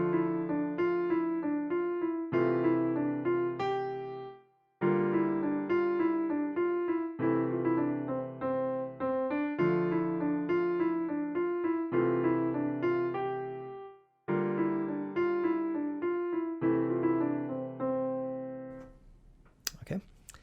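A riff is played slowly on piano in repeated phrases of single ringing notes that decay between short gaps. A brief rustle follows at the end.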